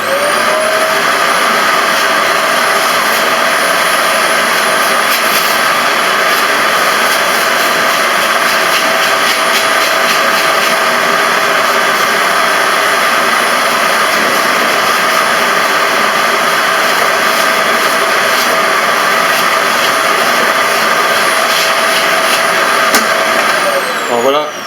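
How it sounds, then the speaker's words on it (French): A vacuum cleaner pulls encrusted dust out of a refrigerator fan, a loud, steady high-pitched suction roar with a whining tone that holds unbroken and then spins down at the very end, heard close with no talking. "de façon à envoyer les poussières qui sont incrustées à l'intérieur dans l'aspirateur"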